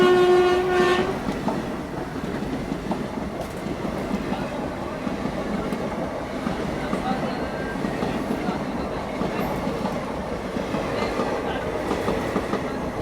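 An Indian sleeper train on the Vivek Express gathers speed, a short horn blast opening over a steady rolling rumble and rhythmic clickety-clack of wheels that continues throughout, with faint voices in the carriage.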